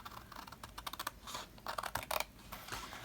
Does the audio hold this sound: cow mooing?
no